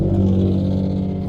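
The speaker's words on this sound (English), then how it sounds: "loud ass car. I don't know if y'all can hear that." A loud car drives past, its low engine rumble and drone steady and close, fading slightly toward the end of a brief moment.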